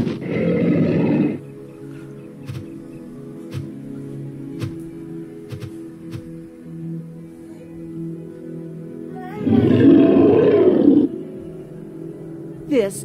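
Two loud, deep roars from Deinosuchus, an ancient alligator, in a HoloLens dinosaur tour, one at the start and one near the end, with a quiet hum and faint clicks between them.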